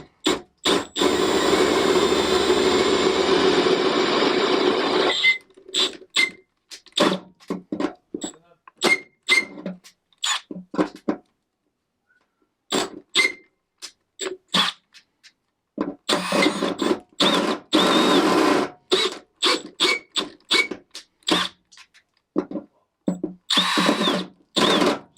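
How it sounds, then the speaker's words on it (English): A handheld power drill with a 13mm bit boring a hole for a rivnut in a Volkswagen Crafter van body. The drill runs in one loud sustained burst and then in many short stop-start bursts, with brief pauses between them. "Now to go through it with 13mm drill bit"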